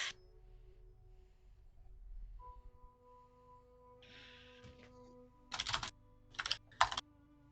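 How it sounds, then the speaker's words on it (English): Keyboard typing sounds faint and distant in a quiet room, sparse at first and then in a few short, brisk bursts near the end, alone without talk. "I don't like the sound of that distant typing."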